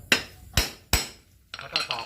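Three hard hammer strikes ring out close by, evenly spaced, then a quicker series of lighter metallic taps, driving a part into place on a 4WD rear axle differential while fitting a wheel.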